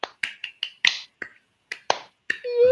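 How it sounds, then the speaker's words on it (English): A small, sparse golf clap of slow, separate sharp claps, about ten spaced irregularly across the moment, close and quiet, with a short vocal sound at the very end. "Golf clap."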